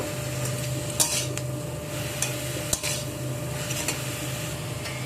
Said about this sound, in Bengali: এই সব কিছুকে আবার ভালো করে মিক্স করে নেব।